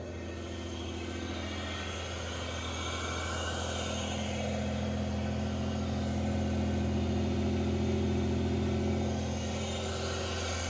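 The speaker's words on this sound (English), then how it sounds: "Look at how well this motor runs" A 1985 Pontiac Fiero GT with 69,000 miles idles smoothly after being started up, producing a steady, even low engine hum that stays close and constant throughout.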